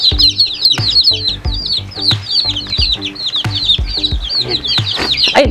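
Newly hatched chicks peep in a steady stream of high, rapid chirps, close and loud, with soft bumps and handling noises underneath.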